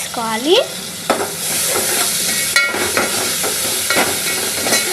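Ingredients for chicken pulao fry loudly in a pan up close, a strong continuous sizzle with repeated scraping stirs and a brief squeak near the start, no one speaking.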